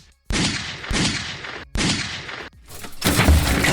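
A series of loud, sharp cracking bursts as bamboo splits and bursts, three or four sudden explosive pops with short gaps, ending in a rougher splintering crash.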